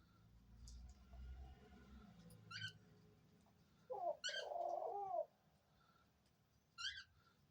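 A pet dove coos softly beside her cage, with a single warbling, bubbling coo in the middle, while faint high chirps from other birds come and go over a quiet indoor background.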